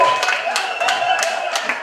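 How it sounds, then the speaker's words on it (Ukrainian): Wedding guests at a celebration in Rashkiv give a short burst of clapping, several sharp claps standing out over a steady background of music and room noise. "І наші оплески бурхливі"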